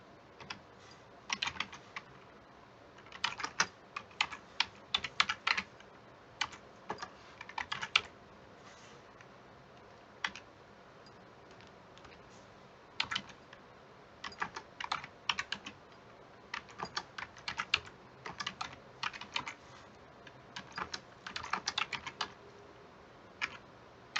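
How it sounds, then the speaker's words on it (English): Irregular bursts of typing on a computer keyboard, close and fairly quiet, with short pauses between clusters of keystrokes; no voices. "I'm again going to type in what I would like to add to the"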